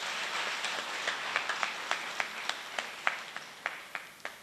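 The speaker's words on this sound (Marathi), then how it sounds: "आपण टाळ्या वाजवून अभिवादन" Audience applause at a Pune book launch event honouring guests, steady crowd clapping throughout with individual sharper claps standing out, moderately distant and fairly quiet.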